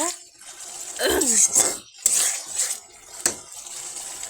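Pieces of rohu fish dropped into a pan of oil and spices, giving a loud splash and sizzle with a few sharp clinks of utensils, close by.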